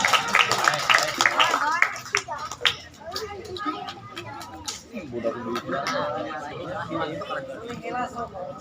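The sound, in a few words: audience clapping for a child at a mosque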